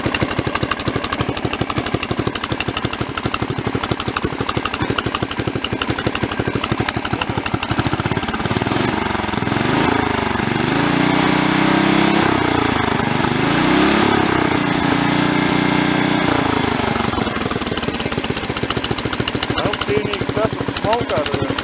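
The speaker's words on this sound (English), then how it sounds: "I'm going to leave it running here and let it warm up, and we'll see how it works." A Briggs and Stratton small engine runs steadily after carburetor work, a loud, close, continuous mechanical drone whose pitch wavers through the middle before settling back to an even idle.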